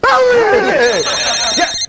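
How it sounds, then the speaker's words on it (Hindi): A telephone rings with an electronic trill, loud and near, while a voice sounds over the start of it. "डरा मत यार, ये फोन बज रहा है।"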